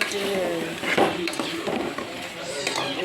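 Country chicken being sautéed in a pot for curry gives steady stirring scrapes and a soft sizzle, with light clinks of utensil on metal throughout.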